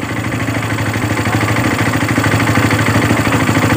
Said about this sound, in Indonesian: motor langsung menyala